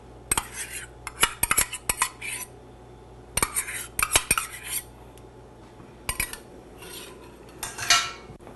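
A metal spoon stirs sour cream into a dish in a coastal kitchen, giving bursts of sharp clinks and scrapes against the pot or bowl, close and clear, separated by short pauses with no talking.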